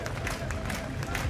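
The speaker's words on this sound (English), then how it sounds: "The crowd really getting behind him here." A crowd cheers and roars on a rider during a UCI Trials World Cup superfinal in Aalter, a dense, steady wash of noise with a commentator's voice over it.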